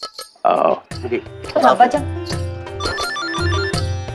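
A phone rings with repeated electronic tones in a home scene from a Hindi drama, the ringing pulsing steadily while people talk over and between the rings.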